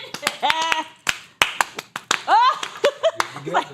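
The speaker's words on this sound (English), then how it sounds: "The slow clap." Sharp, separate hand claps ring out one after another at a political discussion table, while a voice talks between them.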